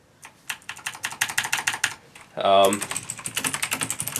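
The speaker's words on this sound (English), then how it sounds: "when you're typing, you're probably gonna bottom out, just because the way they feel" Rapid clicky typing on a mechanical keyboard, keys clacking close and steadily, briefly interrupted by a short voice sound before the typing resumes.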